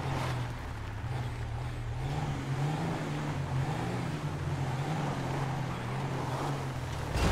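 A steady low engine drone comes from a tractor approaching on an off-road route in GTA V, holding at a constant level throughout.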